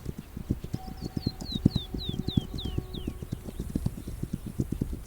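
Rapid, rhythmic hoofbeats of a galloping horse in a video game, steady and unbroken, with a descending series of bird-like chirps overhead partway through.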